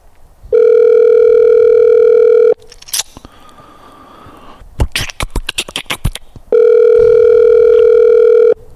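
On an outgoing phone call, a loud steady ringback tone sounds twice. Between the two rings come a stretch of line noise and a quick series of clicks and beeps.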